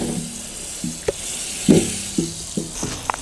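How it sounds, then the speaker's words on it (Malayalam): Butter sizzling in a hot pan for a big batch of village-style scrambled eggs, a soft steady hiss with a few sharper pops and crackles, close and alone. "നമുക്കിനി ഇതിലേക്ക് ബട്ടർ വെച്ച് കൊടുക്കാം."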